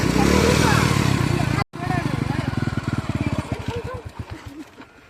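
A motorcycle idles and revs as a beginner learns to ride. The engine runs loud and close at first, cuts out briefly, then returns with rhythmic putters that fade and grow uneven while people talk over it.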